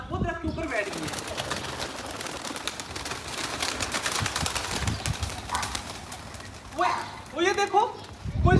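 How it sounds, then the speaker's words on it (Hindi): Doves released from their coop flutter off, with wingbeat bursts near the start and again toward the end, amid soft cooing and outdoor ambience while people talk nearby. "कुछ डब कबूतरों के साथ बैठ गई, कुछ ऊपर को चली गई है।"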